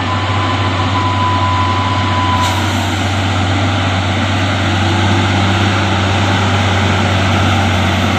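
Open-bodied Hino truck grinds up a steep hill at Bukit Kodok, a loud close engine drone with heavy low hum, a brief hiss of air brakes and a whine early on, no talking.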